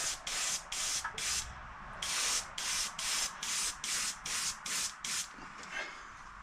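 Short bursts of an aerosol can spraying black paint onto a homemade emblem, about a dozen hissing pulses in a quick, even rhythm with brief gaps between them.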